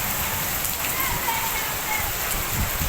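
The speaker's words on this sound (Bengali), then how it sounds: "বৃষ্টি যে কখন থামবো আল্লাহ।" Steady rain falls outside a shop, a dense continuous hiss of drops on surfaces with no pause, loud and close, and faint voices sound underneath.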